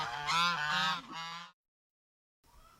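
Geese honk loudly in a close, harmonic burst of overlapping calls for about a second and a half, then fall silent before a fainter call returns near the end.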